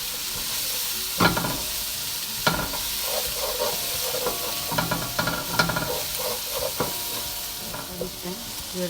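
Turmeric powder and spices being stirred in a hot frying pan for rice, with a constant sizzle broken by scraping strokes and clinks of the utensil against the pan.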